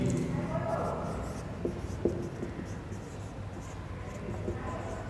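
A pen scratching out the number 3 by hand, with soft, brief strokes in a quiet room.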